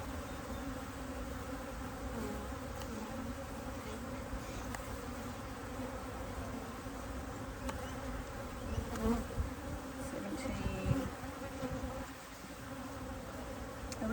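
Honey bees humming inside an open top bar beehive full of brood, a dense, continuous close-up drone with occasional individual bees buzzing past, no speech.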